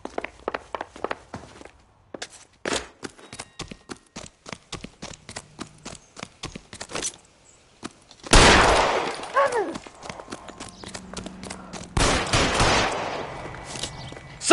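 Gunfire in the 1940s Los Angeles detective game L.A. Noire, sharp separate shots in quick irregular succession, then a loud burst of noise partway through, with gaps of near silence between.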